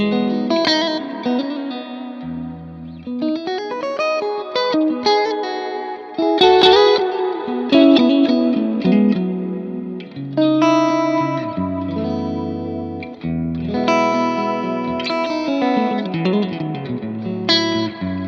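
An electric guitar runs through a Strymon Iridium with a big, spacious reverb, playing a melodic passage of ringing chords and single notes that wash together in long, echoing sustain.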